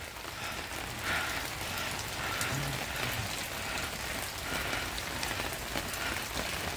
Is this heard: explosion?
no